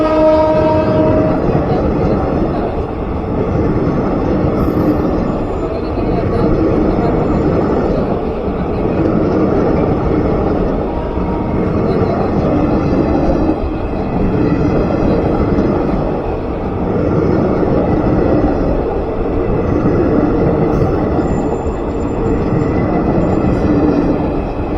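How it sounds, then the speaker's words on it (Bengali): A Sahebganj–Howrah passenger train rumbles past with a continuous heavy roll of wheels and carriages, loud and close, with a horn blast near the start and a steady clatter that carries on without a break. "আসার সময় ট্রেনের দর্শন করলাম"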